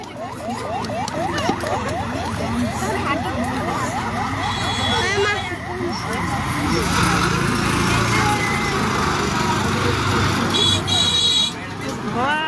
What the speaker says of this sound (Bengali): কি সুন্দর করে গাড়িগুলো আসতেছে, তা কি ফাইন লাগে।